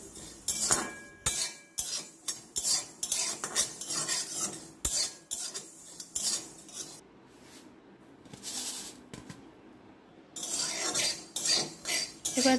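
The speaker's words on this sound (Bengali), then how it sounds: "আগে এই মশলাগুলোকে ভেজে তুলে নেব।" Whole spices being fried in oil for a jaggery mango pickle, heard as repeated close metallic scraping and clinking of a spoon against the pan in uneven bursts, with brief quieter pauses.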